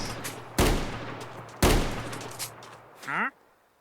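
Gunfire from a gun in a Minecraft weapons mod game: two loud, sharp shots about a second apart, each trailing off, then a short mechanical reload-like sweep near the end.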